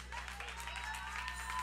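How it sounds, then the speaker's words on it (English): A church congregation claps for their pastor during Sunday morning worship, a faint, diffuse patter of applause with a low hum beneath it. "can we just clap our hands for our pastor"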